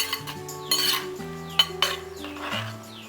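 A ground sambar paste is stirred in a pot, with a spoon scraping and clinking against the metal in several short, close bursts, over a faint steady hum.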